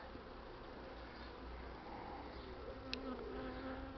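Honeybees hum inside a hive, a soft steady buzz close by with a faint tap partway through, and no voices.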